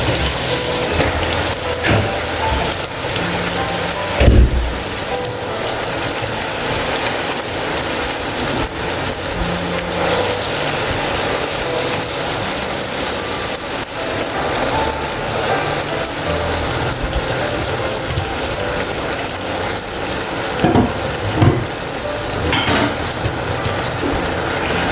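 Bottle gourd greens fry in a pan with green chillies, giving a loud, continuous sizzling hiss that runs throughout, with a few sharp clatters and knocks breaking through.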